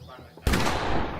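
A shotgun blast in the video game The Quarry erupts abruptly after a quiet lead-in, a single loud booming report whose broad roar sustains and decays slowly through the rest of the moment.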